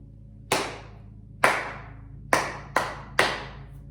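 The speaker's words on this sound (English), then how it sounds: "Now, I'm going to clap a rhythm." Five sharp hand claps at an uneven rhythm, two spaced beats followed by three quicker ones, each loud and close with a short decaying ring, and no talking.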